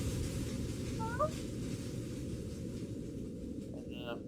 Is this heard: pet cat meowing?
yes